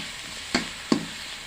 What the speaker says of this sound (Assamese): এতিয়া অকণ ভাজি লওঁ